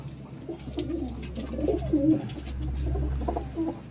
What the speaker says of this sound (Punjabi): ਲੋ ਜੀ ਇਹ ਬੈਠੇ ਆ ਸਾਰੇ ਟੋਟਲ ਕਬੂਤਰ